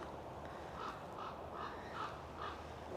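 Ravens in Hazelborough Wood give five evenly spaced, hoarse caws from some distance, faint against a steady woodland hush.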